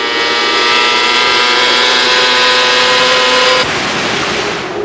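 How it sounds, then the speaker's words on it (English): Kawasaki superbike engines screaming at wide open throttle down the front straight at Brainerd International Raceway during a 2004 AMA Supersport race, a loud, steady high-pitched wail that drops off abruptly near the end. "The throttles went to wide open."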